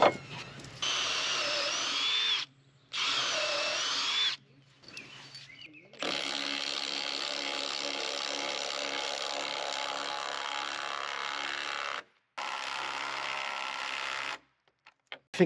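A power drill drives lag bolts into wooden floor joists of a budget firewood shed at an off-grid tiny cabin, running in several long whirring bursts separated by short pauses, loud and close.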